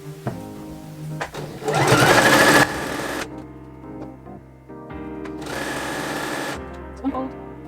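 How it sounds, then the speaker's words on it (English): A sewing machine runs in bursts as it stitches woven fabric close to the fold. A long steady run is followed by a pause and a second long run, with a faint voice and light handling noises between them. "I'm going to stitch very close to the fold and finish the other openings off that way."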